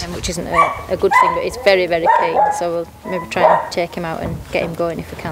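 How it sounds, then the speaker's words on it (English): A sheepdog yips and barks excitedly in short bursts, close by, mixed in with someone talking steadily over it. "You can hear him barking."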